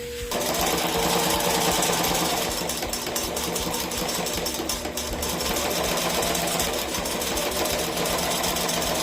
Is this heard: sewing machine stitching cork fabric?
yes